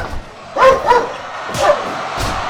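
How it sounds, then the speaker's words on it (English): A dog indoors barks in a few short yips and woofs, spaced irregularly, fairly loud and near over a low background murmur. "My dog decided to just start barking at nothing."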